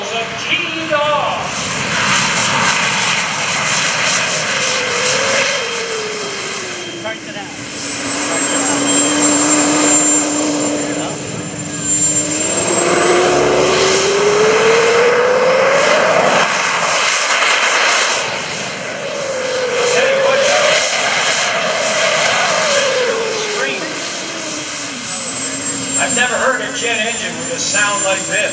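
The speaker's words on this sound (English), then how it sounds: "It's a J-58 jet engine modified with an afterburner." A jet-powered golf cart fitted with a J-58 jet engine and an afterburner roars loudly at an airshow, swelling and fading in long rising and falling whines as it makes passes, with an announcer speaking over it.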